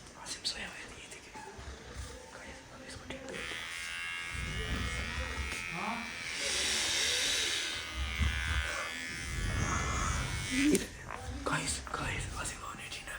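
Electric clippers buzz steadily while shaving a sleeping friend's head bald, the close whine running for several seconds under hushed whispering and quiet laughter.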